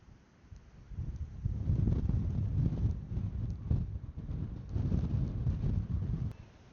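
Wind blowing hard across exposed, open castle ruins, heard as a continuous low rumble on the microphone with gusts that swell and ease, and no voices over it.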